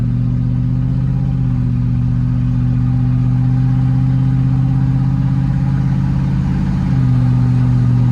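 A 1989 Range Rover Classic engine idles steadily and close through a modified exhaust, with a deep continuous rumble that shifts slightly in pitch partway through, no voices.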